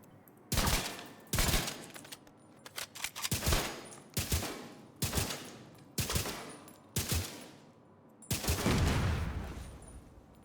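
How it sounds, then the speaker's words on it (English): Explosions in a video game, about seven loud, sharp booming bursts at irregular intervals, each decaying quickly into a quieter background, the last one longer and rumbling. "Maybe it's the explosion actually killing the"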